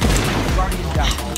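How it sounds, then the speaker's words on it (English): Rapid gunfire and explosive booms from enemies blowing up in the Destiny 2 shooter game, a dense continuous barrage with several heavier bursts, loud throughout. "Oh, okay, those guys explode."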